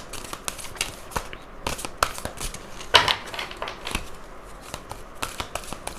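Tarot cards riffle and slap in a steady run of quick, close shuffling bursts, alone without speech, with one sharper snap near the middle.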